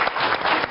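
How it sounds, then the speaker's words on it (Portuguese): An audience at a television afternoon show applauds, a brief dense burst of clapping heard close with no speech. "uma grande salva de palmas"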